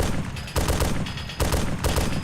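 Loud bursts of automatic fire from a vehicle's mounted gunner seat shooting at zombies in the game Arma 2, three heavy volleys separated by brief dips, close and dense.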